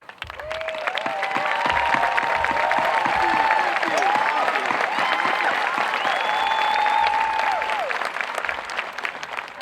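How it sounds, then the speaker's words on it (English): A large graduation-ceremony audience gives sustained, dense applause for the Bellevue High School staff at the Class of 2019 commencement, swelling quickly and holding steady for about nine seconds before easing, with a few faint whistles inside the wash. "we can give you a round of applause"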